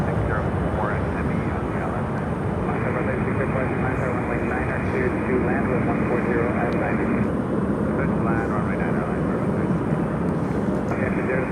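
A Lufthansa airliner taxis at Miami airport, its steady engine roar filling the scene as a loud, continuous drone with little change, while a voice talks over it throughout.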